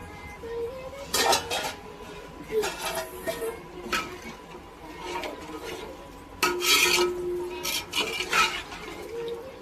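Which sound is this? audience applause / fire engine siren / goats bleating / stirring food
stirring food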